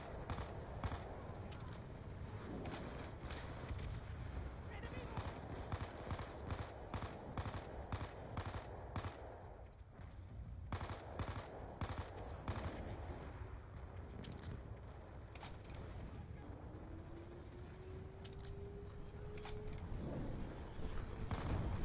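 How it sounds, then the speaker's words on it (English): Sustained bursts of video game gunfire rattle almost continuously during a shooting mission, with rapid repeated shots, a brief pause midway, and a steady loud barrage throughout. "You can destroy it by simply shooting at it with your one of your guns."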